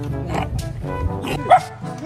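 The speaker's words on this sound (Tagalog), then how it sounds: "Ayun yung aso." A dog barks a few times amid a farm setting with goats, the short yips rising over steady speech and background noise.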